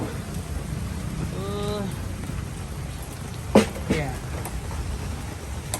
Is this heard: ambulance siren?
no